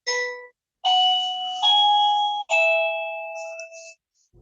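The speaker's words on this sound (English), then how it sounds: "how often does this doorbell thing happen?" A doorbell chimes clearly and loudly, several ding-dong tones ringing out in sequence with short gaps between, each note decaying cleanly in a quiet room.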